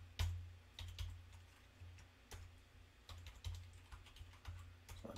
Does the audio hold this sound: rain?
no